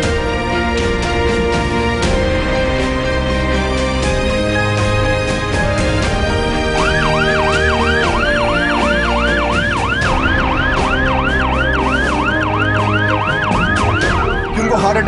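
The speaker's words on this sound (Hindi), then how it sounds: "सायरन ऑन है।" An ambulance siren wails loud and steady amid road traffic, its rising and falling tone repeating in a regular cycle throughout, with a dense hum of vehicles underneath.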